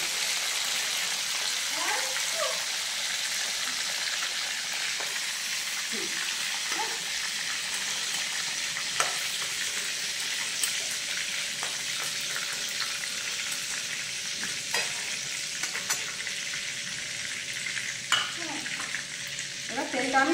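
Pointed gourds frying in hot oil for a stuffed dolma dish, a steady broad sizzle running throughout with a few soft clinks and stirring sounds, no talking.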